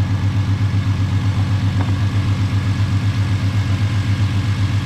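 A 2008 Ford Mustang 4.0 V6 idles with a hose fitted for an idle chop mod, giving a loud, close, steady low rumble with an even pulsing throb and no voices.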